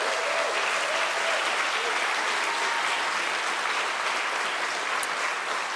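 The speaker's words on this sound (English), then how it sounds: "First round of applause." Applause from the audience at an INSEAD MBA graduation ceremony, a broad, steady roar of many hands clapping throughout, even in loudness, with no talk over it.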